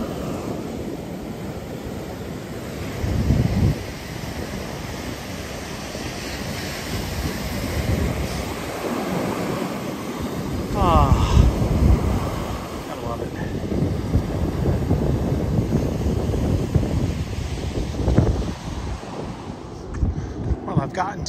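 Steady surf washing onto Virginia Beach at night, with a constant roar of breaking waves and some wind buffeting the microphone throughout.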